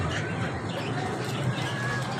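Pigeons cooing softly amid a fluttering of wings, over a steady, busy outdoor background hiss at a bird and chicken shop.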